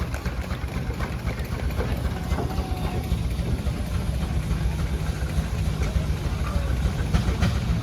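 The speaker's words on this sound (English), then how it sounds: "this is a Nichols and Shepard steam engine" A Nichols and Shepard steam engine runs steadily at a steam and threshing show parade, a continuous low mechanical rumble with faint rhythmic chuffing that holds at an even level throughout, with no talk over it.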